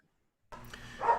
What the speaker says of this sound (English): Sorry about the dog. He's an idiot.